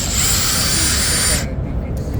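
An xDrill automated laser-guided power drill whines steadily as it bores into material, then cuts off on its own partway through, with a person talking nearby.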